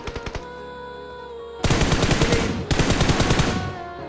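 BGMI (PUBG Mobile) gunfire: a few quick single shots, a pause, then two loud sustained bursts of rapid automatic fire at close range, with no talk over them.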